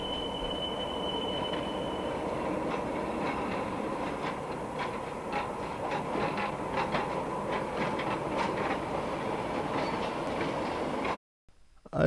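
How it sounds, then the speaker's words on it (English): A Bay Colony freight train rolls out of an industrial park, its wheels clattering steadily over rail joints with a thin squeal of wheels against track, loud and close for about eleven seconds until the sound cuts off abruptly. "here we see a Bay Colony train leaving the Needham Industrial Park and entering Newton Upper Falls"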